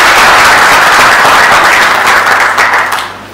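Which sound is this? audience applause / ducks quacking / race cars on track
audience applause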